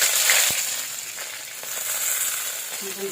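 Green chilies fry in hot oil with a steady, close crackling sizzle that barely changes over a few seconds, no voices present.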